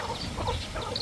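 Fighting-breed roosters and hens on a small farm give soft, scattered clucks, close by and fairly quiet, over a low background hum.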